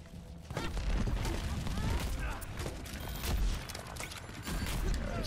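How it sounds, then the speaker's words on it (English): Weapons fire in the game Overwatch rattles in repeated bursts and booms amid busy combat effects, with a player talking over the action. "Right, just keep firing at him."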